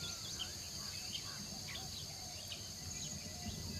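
Jungle insects chirp and buzz in a faint, constant high drone on the forest floor, with scattered soft bird-like calls mixed in.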